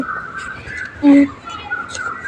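A single loud bird call, short and close, cuts through a steady low background hum about midway, with faint chatter-like noise around it.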